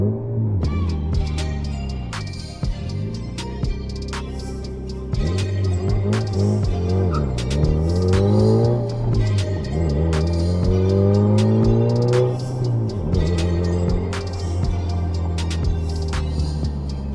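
A turbocharged Honda Civic with a stage 4 clutch pulls hard on a highway, its engine note rising and falling through repeated rev sweeps while quick fluttering chatters from the turbo cut in between shifts, loud and steady from inside the cabin.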